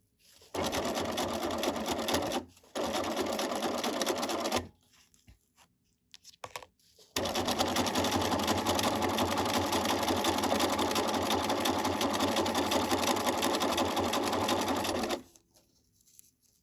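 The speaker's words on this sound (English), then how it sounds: "I have an edge stitch foot attached to my sewing machine" A sewing machine with an edge stitch foot runs along the edge of fabric in close, loud, steady bursts, two short runs followed by a long continuous stretch after a brief pause.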